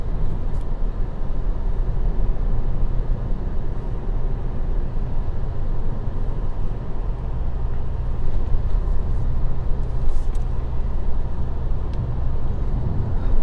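A 2025 Toyota Camry XSE being driven in sport mode, heard from inside the cabin as a loud, steady engine and road drone that holds constant throughout with no talking.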